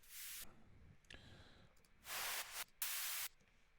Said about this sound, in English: If I can find just a normal white noise stab.